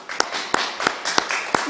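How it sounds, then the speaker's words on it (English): Sparse, sharp hand claps for award finalists at a virtual awards event, about five distinct close claps spaced roughly a third of a second apart over faint background sound. "Can we please have a big round of applause for all the finalists in this category?"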